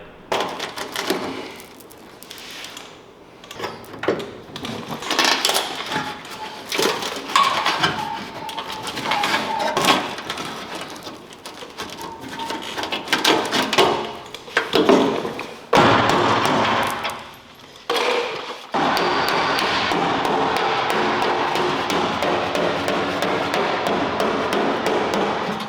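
A dented fender on a Datsun 520 pickup being hammered out: irregular, sharp metallic blows in bursts with short pauses, close and loud, followed by a steadier noise toward the end.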